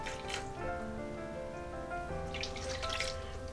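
Plain water is poured into a pot of baked beans, a short liquid splash at the start and another longer pour near the end, faint against a steady tonal background.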